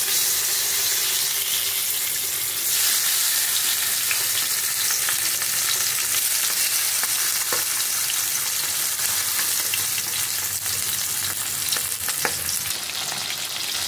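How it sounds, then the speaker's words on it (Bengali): Pabda fish fry in hot oil with a loud, sustained sizzle and scattered sharp crackles and spits, continuing steadily and close up for about fourteen seconds. "তেল গরম হয়ে গেছে, এখন মাছগুলো আমি একটু ভালো করে ভেজে নেব।"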